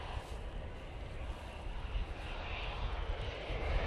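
A departing airliner bound for Brussels at windy Manchester Airport rumbles faintly in the distance, its low engine roar slowly swelling louder toward the end amid wind noise, with no speech.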